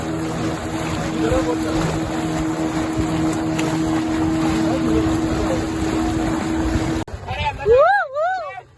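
A motorboat engine drones loud and steady on the sea at Malvan beach, with wind and voices over it, then cuts off near the end as people keep talking.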